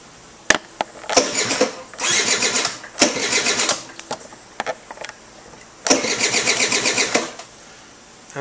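A 1985 Honda Aero 50 scooter's small engine is cranked repeatedly, catching in short buzzy bursts between sharp clicks, sputtering and struggling before cutting out, close and moderately loud.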